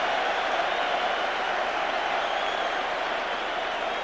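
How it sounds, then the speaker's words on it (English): Football crowd at Celtic v Aberdeen giving a sustained, steady roar of reaction to a shot, a dense wash of distant voices and some applause holding at an even level throughout with no pauses. "You can just hear the crowd reaction"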